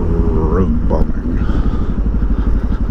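A Suzuki DR650 motorcycle fitted with an FMF exhaust revs loudly and close by, its engine giving a rough, pulsing bark that rises and falls over a few seconds.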